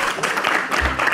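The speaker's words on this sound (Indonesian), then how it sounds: "Boleh tepuk tangan dulu untuk mereka?" Studio audience on a TV comedy show clapping, a brief burst of close applause with uneven clap pulses and a low thump near the end.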